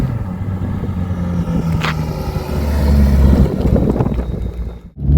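Mk4 VW Golf GTI project car driving, heard from inside the cabin as a steady low engine and road rumble that swells mid-way and dips briefly near the end.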